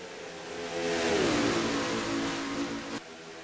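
Stock cars race in a video game, a Ford chased by two Chevrolets, engines roaring loudly as one sweeps past with a falling pitch, then the drone drops off abruptly near the end.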